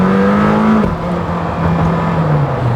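A Lamborghini Temerario engine revs hard, a loud, close, sustained mechanical roar that holds a high, steady pitch and then eases slightly lower.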